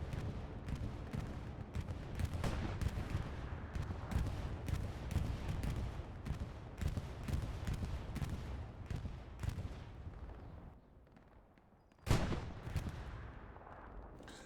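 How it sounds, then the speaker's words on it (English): Bombing run in the Hell Let Loose World War II video game, heard as dense rolling booms and gunfire crackle, fairly distant and steady, fading briefly before one sharp loud blast near the end. "We have a bombing run, it sounds like."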